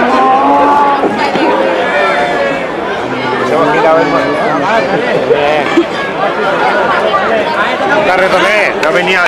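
A cow moos at a bull-running event in a Benicàssim arena, with loud, drawn-out bellows mixed into nearby shouting and crowd chatter.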